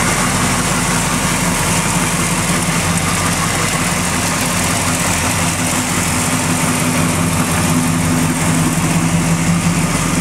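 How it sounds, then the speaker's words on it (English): Rebuilt engine of a 1965 Chevy Impala idles smoothly and steadily, a loud, even, close rumble with no change in pace across the whole stretch. "As you can see, it's just a really smooth running motor, very high-end professional rebuild."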